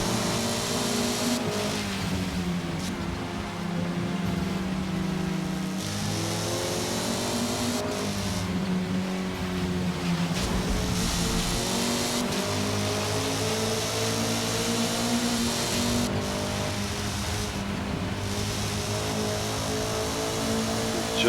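A Honda #73 Civic race car in Forza Motorsport at Suzuka, its engine droning loud and continuous with repeated rev rises and gear-shift dips as it slides through corners.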